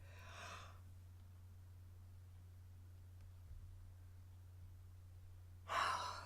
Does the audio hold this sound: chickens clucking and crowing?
no